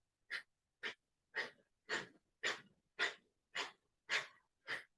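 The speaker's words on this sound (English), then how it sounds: "Breath of fire." Breath of fire yoga breathing during a purification meditation: nine sharp, forceful nasal exhalations in an even rhythm about half a second apart, close and clear, with silence between them.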